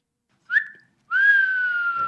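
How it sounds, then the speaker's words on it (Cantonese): A person whistles two tones, a short upward note and then a longer steady one with a slight wavering pitch, close and clear against silence. "呢個係人吹口哨。"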